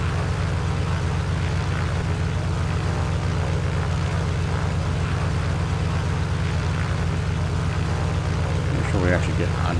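Propeller engine of a Wedell Williams Model 44 racing plane in Microsoft Flight Simulator 2020, a steady loud droning hum that holds constant throughout, with a brief rise in texture near the end.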